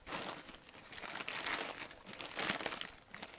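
Plastic packaging of a Shein parcel crinkles and rustles continuously as it is torn open and handled, with louder crackling bursts throughout.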